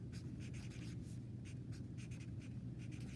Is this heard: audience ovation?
no